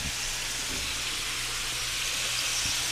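Steady frying sizzle of short rib steak in oil, a dense continuous hiss of a pan cooking, close and constant with a low hum beneath.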